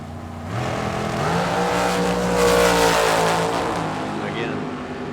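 Drag racing cars at a live event, Don Toya's 492 in a fendered Yancer chassis against Rob Strong's Firebird, roar up in a loud sustained engine blare that swells and fades, with an announcer talking over it.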